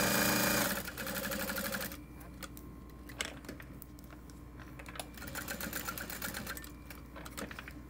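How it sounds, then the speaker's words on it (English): A home sewing machine stitches fabric in fast, rattling bursts, stopping briefly at a corner with the needle down before running again, close and moderately loud. "I'm gonna stop with my needle down in the corner, stitch over, and then all the way down the other side."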